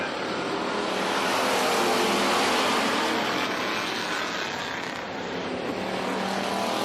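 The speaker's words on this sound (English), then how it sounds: "Okay, race fans, it's time for feature racing." Pure stock race cars roar around a short track during a feature race, a loud, steady engine drone filling the whole stretch as the pack passes close by.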